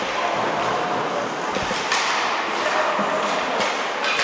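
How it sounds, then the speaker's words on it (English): An ice hockey stick banged twice against the ice during a youth game between Cottage Grove and Blaine, two quick thuds close together under steady rink and crowd noise. "bangs his stick twice"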